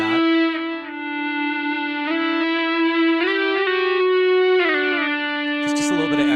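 A sustained EBow note on electric guitar played through effects with echo, a smooth held tone that glides between pitches and swells with a long, even trail, loud and close with no talking over it.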